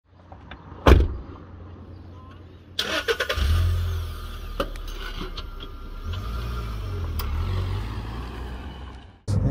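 A 2016 Volkswagen Saveiro Cross double-cab pickup starts with a sharp crank, then its engine idles and settles into a steady, rising hum as it pulls away, heard from inside the cabin with mechanical clicks and thumps.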